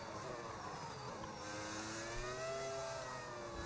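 Modded race car engine sound in the F1 26 racing game, with an Audi power unit, a steady high-pitched drone with rising and falling pitch sweeps as the car accelerates, loud and continuous throughout.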